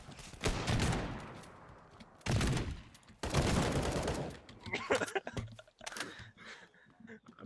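Gunfire from a shotgun in the video game Teardown comes in a few loud, close bursts with crackling debris, followed by scattered smaller impacts and clatter.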